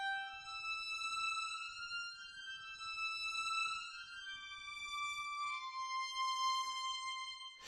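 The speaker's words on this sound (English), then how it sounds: "The violin, yeah, alone sounds like this, panned to the left." Sampled solo violin from the Novella Origin library by Westwood Instruments, panned left, playing a slow sustained melodic line of held notes alone, steady and moderately quiet with no talk.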